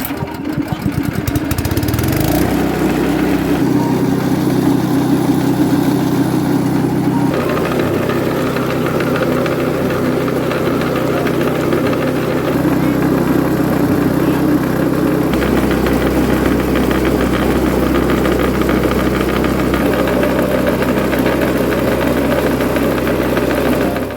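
A motor-driven coffee pulping machine runs continuously, stripping skins and fruit flesh from coffee cherries with a loud, steady mechanical drone and rattle that shifts pitch slightly as the load changes.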